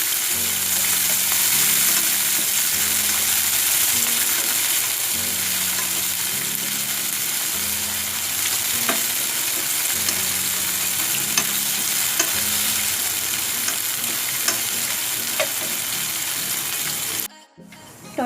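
Chopped tomato sizzles loudly in a pan with tomato sauce for Maggi masala noodles. The hiss is steady and close, with rhythmic stirring scrapes, and it cuts off abruptly near the end.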